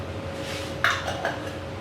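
A metal lid is set on a pan of French beans frying with prawns, giving a brief clink and then a softer second knock over a quiet background hum.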